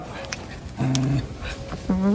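A Rottweiler makes short, close, low growling whines in a few brief bursts, with quiet background sound between them.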